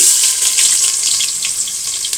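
Sliced potatoes fry in a pan of hot oil for a chicken curry, giving a steady, loud, close sizzle with a dense crackling hiss that never lets up.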